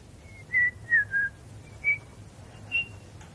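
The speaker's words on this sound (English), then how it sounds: "Can you whistle? Try whistling." Soft whistled notes from a person, five or six short separate tones with gaps between them, quiet and alone against a faint low hum.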